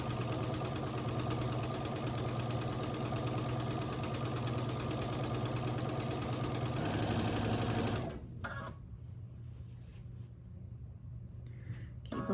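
A sewing machine stitches jelly roll quilt strips with a quarter-inch seam, whirring steadily and fast for about eight seconds, then stopping, leaving faint handling noises.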